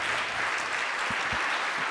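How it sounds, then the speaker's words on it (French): A conference audience at a French panel discussion claps in a continuous, even wash of applause at moderate distance, with a few louder thumps near the middle. "le public applaudit"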